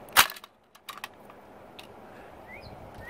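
A modified Nerf grenade loaded with six Rival foam rounds fires in one sharp, loud burst near the start, followed by a few faint clatters and light rattles as the balls scatter and land.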